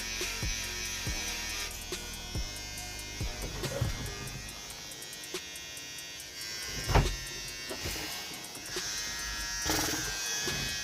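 Electric hair clippers buzz steadily through a self-trim at home, a continuous close-up drone with brief pauses and small knocks as the clipper is repositioned around the ear.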